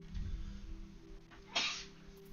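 A single sharp human sneeze bursts out once, close and fairly quiet, over a low steady background hum.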